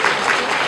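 Brief burst of audience clapping for children at a state education award ceremony, loud and dense, cut off after under a second.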